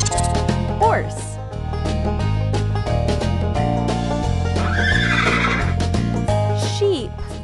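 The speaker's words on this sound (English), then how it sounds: "horse," A cartoon horse in a children's farm-animal stacking game whinnies once, loud and up close, over continuous bouncy background music.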